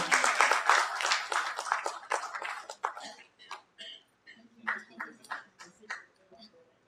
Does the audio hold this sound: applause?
yes